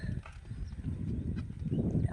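A mare walks along, her hooves clip-clopping in an irregular beat over a loud, rumbling outdoor background.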